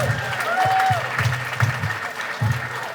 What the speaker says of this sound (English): Another round of applause for the Hilton Head Ensemble,